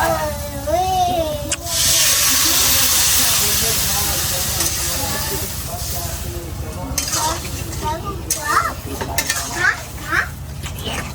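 Water poured into a hot pan of spice-fried vegetables with taro, a loud steady hiss and sizzle that swells after a clank, then fades as voices talk over bubbling and stirring.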